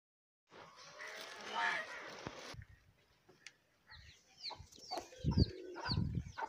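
Chickens clucking in a Punjab village yard, short bird calls and clucks scattered near and far, with a louder burst of fowl noise and brief voices toward the end.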